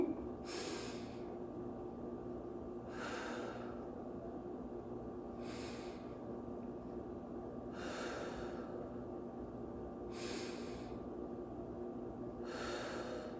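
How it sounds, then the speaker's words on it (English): Six deep yoga breaths come at a slow, even rhythm about two seconds apart, each a soft, close airy rush against a quiet room. "So I'm gonna breathe."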